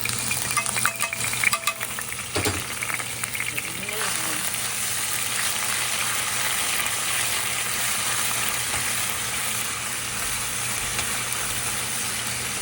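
Plenty of garlic sizzles and fries steadily in a pan for ambampalaya con carne, a dense continuous crackle with a few sharper stirring clatters early on, close and fairly loud throughout.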